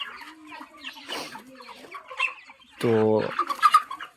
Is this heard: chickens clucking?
yes